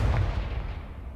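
A Confringo fire spell blasts in the Hogwarts Legacy video game, a loud, dense low rumbling burst that fades over about a second.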